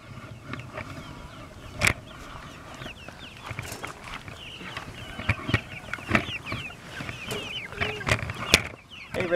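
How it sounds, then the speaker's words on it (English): Chickens cluck on a farm during outdoor fence building, scattered clucks and squawks rising over background noise, with sharp knocks and thumps mixed in. "Rachel, that's a big chicken"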